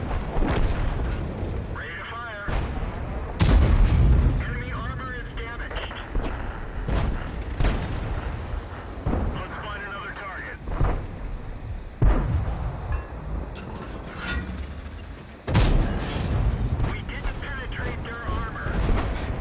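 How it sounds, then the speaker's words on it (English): A tank in World of Tanks fires high explosive rounds, heavy booming shots punctuating steady engine rumble and game effects, with someone talking over much of it. "When they show you the side armor like that, it's best to throw a high explosive round at them."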